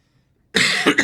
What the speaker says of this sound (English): Ah, stupid cough.